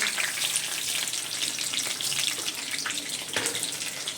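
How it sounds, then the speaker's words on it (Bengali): Steady sizzle of food frying in a pan with green chillies and sugar being stirred in, a dense hiss running throughout with occasional spatula scrapes, no voices. "চিনি দিয়ে ভালো করে এবার নাড়বো"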